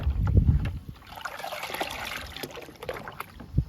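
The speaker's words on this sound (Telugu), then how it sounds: "అలోవెరా లిక్విడ్ని వాటర్ని బాగా కలుపుతున్నాను" Aloe vera liquid being stirred into water for reviving dying plants, giving a close, wet trickling and sloshing with small splashes and a heavier slosh near the start.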